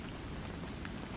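Rain falling in a steady, even hiss of dense drops, soft and continuous with no voices or breaks.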